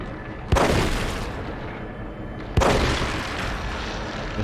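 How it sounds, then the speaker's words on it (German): Two heavy gunshots in The Evil Within, each a loud, booming crack with a long rumbling tail, spaced about two seconds apart over a dense, continuous background din. "Das Schöne ist, mit zwei Schuss geht er schon kaputt."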